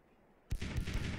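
One sudden heavy boom of a ship's cannon in the Sea Dogs naval battle game, breaking a quiet start and followed by a rumbling tail.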